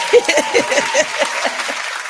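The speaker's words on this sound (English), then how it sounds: "we gotta get claps up today" Audience applause and clapping fill a talk about overcoming failure and doubt, a dense, steady burst of many hands that stands on its own without any talk over it.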